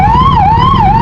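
Wailing ambulance siren with a smooth rising and falling pitch, loud and close, sounding continuously with no talk over it.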